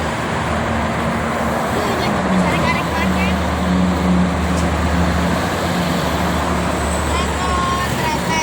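Morning traffic flowing freely on the Jakarta–Cikampek toll road, a dense continuous roar of cars, buses and trucks with engine hum, heard from close by with faint background voices.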